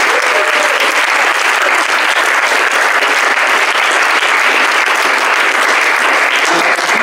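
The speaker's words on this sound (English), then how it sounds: "So a big round of applause to them as well." A closing-ceremony audience at a build day event bursts into loud, dense applause that stays at full strength throughout, a thick continuous roar of clapping with no speech over it.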